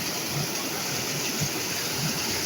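A rain-swollen stream pours strongly at Kannimar Odai near Salem, Tamil Nadu, making a constant full, close roar of rushing water that stays unbroken through the clip.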